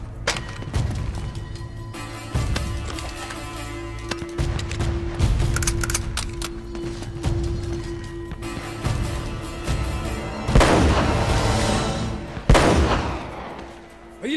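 Gunfire in the video game Uncharted: The Nathan Drake Collection, a busy stretch of sharp shots and bursts mixed with game music and effects, with louder impacts near the end.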